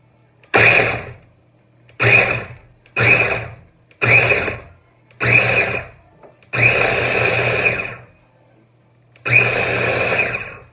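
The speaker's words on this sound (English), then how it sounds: "Just pulse a couple of times, and we need these fine grinded" A food processor pulses macadamia nuts and cashews in short whirring bursts, several quick ones followed by two longer runs, each loud and close with silence between.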